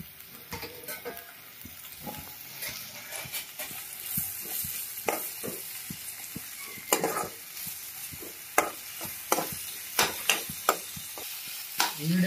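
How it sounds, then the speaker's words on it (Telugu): Ingredients for paneer masala curry stir-fried in a pan, with a steady sizzle broken by frequent sharp scraping and tapping strokes of a spoon that grow louder and more spaced toward the end, with no voices. "ఇవన్నీ వేసుకొని ఫ్రై చేసుకోవాలి."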